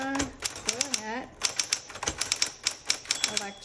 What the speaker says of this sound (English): let's go ahead and start typing. So this is a 1960s. Smith Corona Coronet